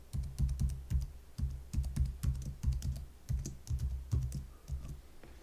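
Someone types a password on a computer keyboard in quick, close bursts of key clicks with short pauses between them, without any talk.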